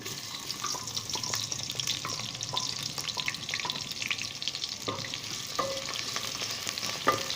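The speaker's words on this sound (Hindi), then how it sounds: "नाज़रीन कुकिंग ऑयल गर्म हो चुका है, अभी मैं इसमें प्याज शामिल करता हूँ" Onions fry in hot cooking oil for a potato pulao, giving a steady, close sizzle with faint scraping and stirring clicks throughout.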